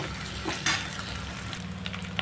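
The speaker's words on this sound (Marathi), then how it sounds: "कढीपत्त्याला पण आपण छान मस्त परतून घेऊ।" Curry leaves sautéed in hot oil for kadhi give a steady, quiet sizzle with a few sharper crackles and pops near the start.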